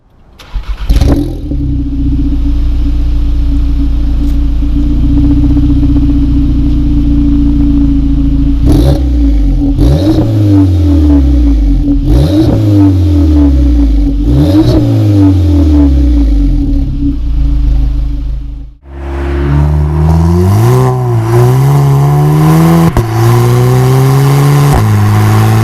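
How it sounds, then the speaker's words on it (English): A prototype Racingline-modified VW Polo GTI, likely with a straight-pipe exhaust, idles loudly, then revs repeatedly in rising and falling surges, exhaust roaring up close, with a short drop before more revving. "While I was revving the engine to get some exhaust noise"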